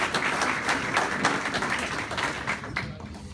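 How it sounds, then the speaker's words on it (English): Sustained crowd applause from an alumni meeting audience welcoming prospective students, steady dense clapping throughout that tapers slightly near the end. "One more round of applause for our prospective students."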